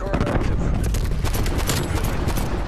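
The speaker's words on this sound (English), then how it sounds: "Hostile sentry turret active." Hostile sentry turret fires in Cold War Zombies played in VR, a dense loud burst of rapid automatic gunfire with booming impacts, continuous and close throughout.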